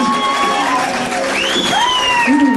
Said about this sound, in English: Ladies and gentlemen, give these people a round of applause